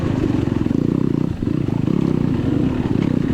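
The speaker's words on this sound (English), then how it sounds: "I'm on a 2022 KTM 300 XCW for reference." A 2022 KTM 300 XCW two-stroke dirt bike races in a muddy hare scramble, its engine popping in a rapid, rough rhythm close by with a brief dip in revs midway.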